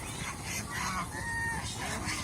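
Geese at a goose farm in Mohanganj honk in a steady, close chorus of overlapping calls, with no talk.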